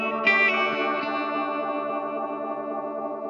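Guitar played through a modulation effects unit, a few plucked notes ringing out with shimmering chorus-like wavering and a long decaying sustain, heard alone and fairly close.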